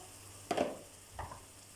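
Spinach börek filling sautéing in a pan makes two brief, faint bursts of sizzling and stirring against a quiet background.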